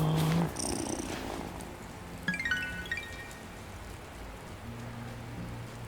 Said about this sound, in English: do you want to be petted? Come here, kitty kitty.